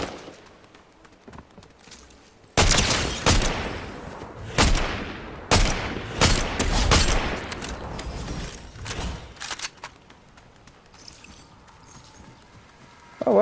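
Gunfire in the video game Fortnite, a series of sharp, loud broadband shots and short bursts spread irregularly over several seconds, with quieter game ambience between them and no talk.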